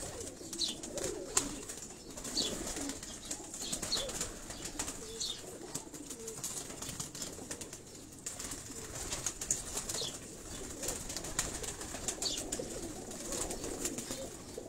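Pigeons coo steadily on a Karachi rooftop loft, low soft calls repeating throughout at close range, with occasional wing flutters and faint background noise.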